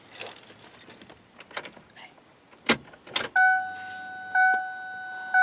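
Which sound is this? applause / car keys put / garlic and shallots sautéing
car keys put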